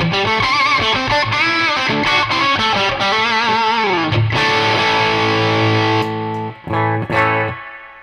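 A heavily distorted electric guitar, a Telecaster on its bridge pickup through a Double Gun tube distortion pedal, plays a sustained chord and melodic bends with thick, gritty overdrive, then rings out and stops near the end.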